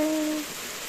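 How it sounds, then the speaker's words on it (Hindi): Heavy rain pours down in a hill village in Uttarakhand, a steady, dense broadband hiss that fills the short moment, with a couple of faint tones fading out early. "ये देखो देखो देखो कितनी तेज बारिश हो रही है"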